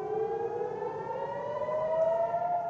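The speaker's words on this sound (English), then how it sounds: "Sirens and explosions echoing in Israel." A wailing civil defense siren in Israel during Hamas rocket attacks holds a steady, slowly rising tone, distant and moderately faint over a low background rumble.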